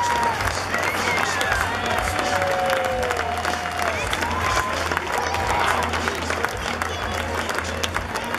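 A baseball crowd at the 2015 Atlantic League All-Star Game applauds Scott Cousins on his retirement after nine professional seasons, with loud, steady clapping and cheering that fills the whole stretch and scattered whistles rising above it.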